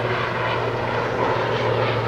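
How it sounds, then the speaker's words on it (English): Steady, loud rotor and engine drone of a helicopter passing over a cemetery, a continuous low throbbing hum that stays constant throughout with no voices. "I don't know if you can hear over the helicopter"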